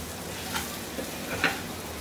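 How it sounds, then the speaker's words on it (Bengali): Potatoes fry in a little oil in a pan over medium heat, giving a soft, steady sizzle with a few faint stirring scrapes, close but quiet. "দিয়ে আলুগুলাকে এর সাথে একটু ভেজে নিব।"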